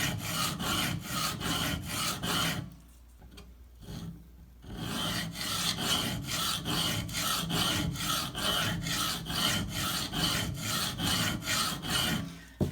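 Blade of a Cold Steel Recon 1 knife swiped repeatedly across a sharpener, a steady run of close, even rasping strokes with a brief pause partway through.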